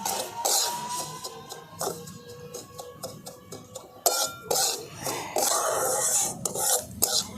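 Semolina being stirred in ghee in a pan for a carrot sweet, with repeated dry scraping and rubbing strokes of a spoon against the pan and occasional clinks, close and fairly steady.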